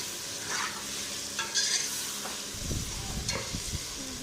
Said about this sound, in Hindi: मसालों को भी हमने इसके अंदर अच्छी तरह भूनना है।